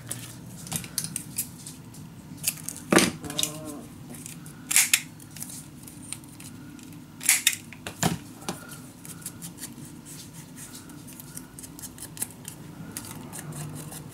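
Scissors snip through a strip of patterned craft paper for a dog-themed mini album, several sharp cuts scattered across the stretch with faint handling rustles between them, close and fairly loud.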